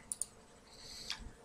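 Two quick, crisp computer mouse clicks sound close together near the start, followed by a faint third click a moment later, all soft and isolated against quiet room tone.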